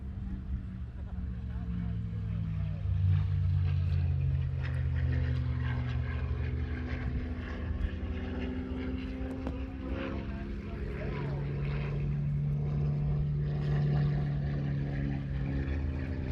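Propeller aircraft taxiing past at the Fort Wayne Air Show, a steady droning engine hum with shifting low tones that holds throughout, under crowd noise and nearby talk.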